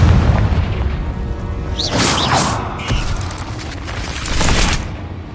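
Confringo blasting spells in Hogwarts Legacy go off as loud, booming explosions with crackling bursts and whooshing streaks, several blasts overlapping in a chaotic fight.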